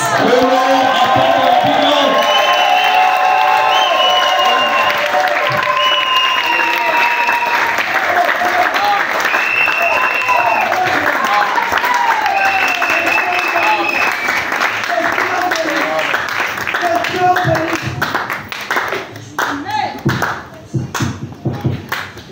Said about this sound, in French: Acclamez très fort le Seigneur pour la parole